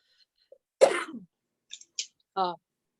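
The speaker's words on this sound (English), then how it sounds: "The No. medication is making me cough." One harsh, close cough followed by a few small throat noises and a short voiced sound, with quiet gaps between.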